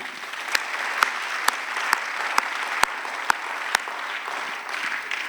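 A church congregation claps in unison during a worship service, steady sharp rhythmic claps roughly twice per second over a warm wash of cheering voices.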